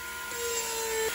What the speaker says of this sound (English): I'm gonna take my fine electric carver now and I'm gonna get the points a little better in each one of these.